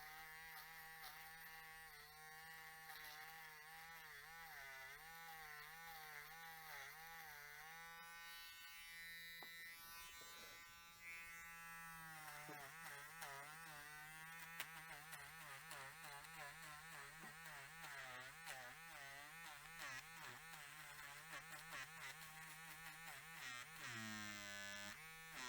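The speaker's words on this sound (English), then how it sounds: "I'm sure you heard that motor bog down." A cheap Temu hair trimmer buzzes continuously while cutting hair, its motor pitch sagging and wavering as it bogs down under load, then recovering. The whine is close and steady, with no talking.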